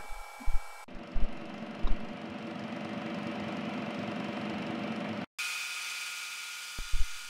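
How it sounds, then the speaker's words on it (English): A milling machine chamfers the corners of a spherical turning tool's head and sliding part with a 45 degree carbide end mill, a steady close machine whine and hum broken by a brief cutoff and a few thumps. No one speaks. "I'm using a 45 degree carbide uh, uh end mill to camfer the corners of the head and the sliding part"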